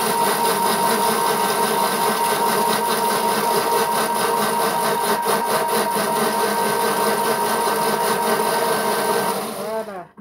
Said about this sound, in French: Et là, je vais mixer d'abord.